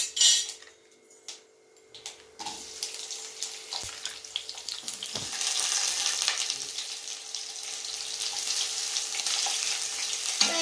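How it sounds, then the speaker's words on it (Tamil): Chopped onions drop into hot oil and fry with a steady broadband sizzle that builds after a few seconds of quieter kitchen clatter, with faint utensil knocks; no one speaks. "இப்போ நம்ம கட் பண்ணி வச்சிருக்க வெங்காயம் போடணும்"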